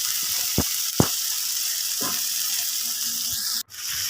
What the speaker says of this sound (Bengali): এখন কড়াইতে তেল দিয়ে মশলা দিয়ে মশলাটা একটু কষিয়ে নেব।